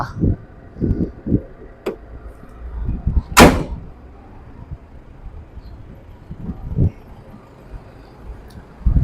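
A van door clunks open with a sharp broadband burst midway, surrounded by low thumps and handling noises from the vehicle.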